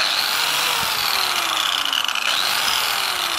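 A cheap angle grinder, the tool used for sharpening hedgecutter flails, runs steadily with a loud, high-pitched whine, continuous and close, with a faint shift in pitch partway through.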